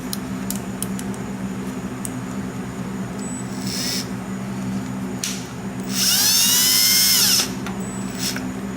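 A power drill tightens a fitting while a circulation pump and alternator are installed on a Bayliner Bowrider 17 boat, heard as short bursts and one longer rising whir over a steady background hum.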